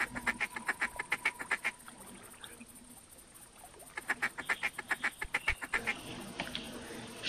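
In the hunting game TheHunter, a flock of mallard ducks calls with rapid bursts of loud, clustered quacks, a pause of quieter rustling in between, then another round of quacking as they come in to land.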